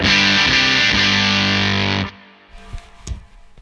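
A guitar played through a Greer Soma 63 vintage preamp overdrive pedal rings out with a loud, saturated, distorted chord sustaining for about two seconds, then cuts off into faint handling noise and soft clicks.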